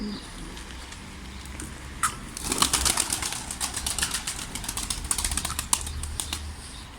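Pigeons or doves on a rooftop terrace, with a burst of wingbeats and flutter as the flock takes off, followed by scattered soft calls and rustling under steady outdoor background noise.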